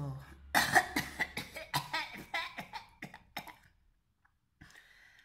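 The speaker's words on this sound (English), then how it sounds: "I was having a little bit of a dramatic cough right there" A rapid string of loud, close coughs, one after another, trailing off into quiet before a brief sound near the end.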